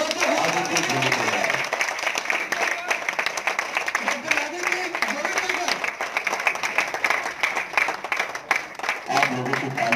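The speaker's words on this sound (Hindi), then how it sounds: "जोरदार तालियों के साथ।" Audience at a launch party applauding, a sustained crackle of many hands clapping that runs the full length, mixed with crowd noise and voices talking over it.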